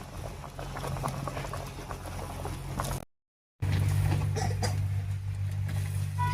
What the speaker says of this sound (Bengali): রান্নায় দেখুন বলক উঠে গেছে